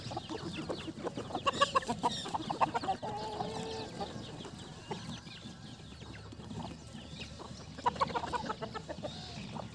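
Aseel chickens and a rooster roaming a free-range desi farm, clucking steadily nearby, with scattered sharper calls and no talking.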